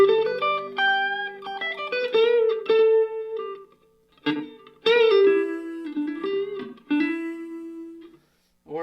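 Electric guitar played through a Boss Katana Mini amp on the clean channel with reverb: a run of picked melodic notes and ringing chords with short pauses, each phrase trailing off in a reverb tail, played alone.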